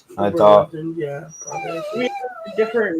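A dog whimpers and lets out drawn-out, wavering howls close by, mixed in with people chatting.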